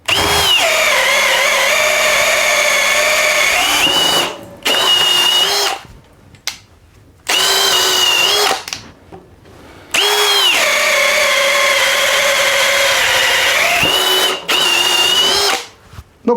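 A Milwaukee 2804-20 1/2-inch hammer drill/driver runs on speed 2 in several long, loud, steady whining bursts close by, spinning up and cutting off with short quiet gaps between runs.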